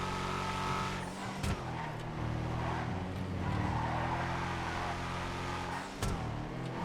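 A ZR380 custom drift-spec car in GTA races through laps, its engine droning loudly and continuously with shifting revs and brief tire chirps, no voices over it.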